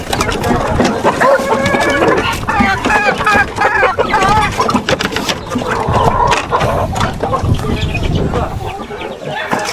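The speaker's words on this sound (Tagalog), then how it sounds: "mga manok dito" Chickens cluck busily on a farm, with many overlapping clucks and calls close by and continuing throughout, and there is faint background noise.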